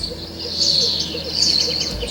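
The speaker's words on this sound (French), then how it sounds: "J'entends les oiseaux," Birds sing outdoors in quiet countryside near fir trees, with a cuckoo calling. Faint high chirps and tweets repeat over a steady low background hum, with no voices.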